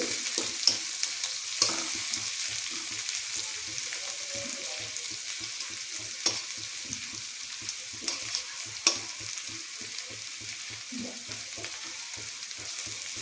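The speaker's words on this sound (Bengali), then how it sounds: "নাড়তে থাকছি। আস্তে আস্তে পেঁয়াজটা প্রায় লাল হয়ে এসছে।" Onions frying in a pan and turning golden as they are stirred, a steady sizzle with a quick rhythmic patter of spatula strokes and a few sharper knocks against the pan.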